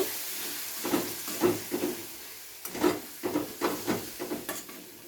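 Yogurt cooking down with spices in a pan over a low gas flame for a Bengali fish curry, soft sizzling hiss broken by repeated bursts of stirring and scraping, close and with no talk.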